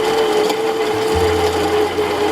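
Medium roast coffee beans being ground in a coffee grinder, a loud, steady whirring and buzzing motor with a continuous gritty rasp, close up and alone, shifting slightly in pitch partway through.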